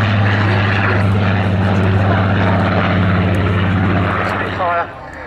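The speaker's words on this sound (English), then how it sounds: "trailed by the Super Marine Spitfire PR-19 with its Rolls-Royce Griffon" A Supermarine Spitfire PR-19 with a Rolls-Royce Griffon piston engine flies past at the RAF Cosford Air Show, a loud, steady propeller drone that fades near the end, with an announcer talking over it.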